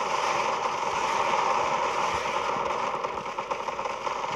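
Fire bomb explosions in the Zombie Defense video game, heard as a steady, dense crackling and rumbling roar that continues throughout at moderate loudness, with no voices.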